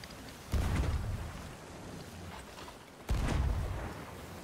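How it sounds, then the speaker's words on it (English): Two deep, booming cannon blasts from a pirate ship video game, each a sudden heavy thud that rumbles and fades over a couple of seconds, with no talk. "That's the worst time for them to snap cannons"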